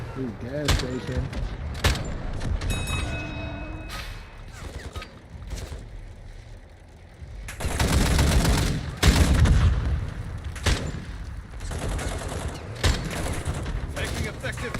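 Gunfire in a military video game: repeated loud bursts of automatic fire, with a long sustained volley in the middle and sharp single shots throughout, along with voices.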